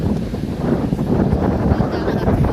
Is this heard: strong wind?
yes